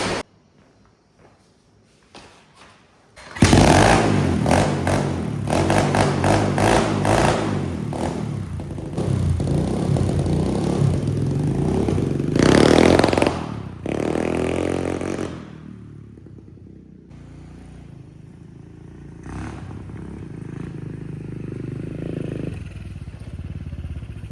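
A pit bike engine is kick-started with a few scuffs, then fires and revs loudly up close, holding a rough high idle before dropping back to a steadier, quieter run.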